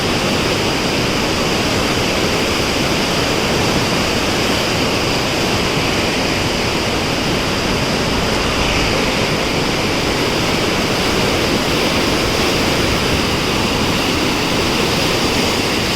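Loud, unbroken roar of floodwater rushing through the open gates of the Koshi Barrage during high flow, a dense, steady hiss with no pauses or voices.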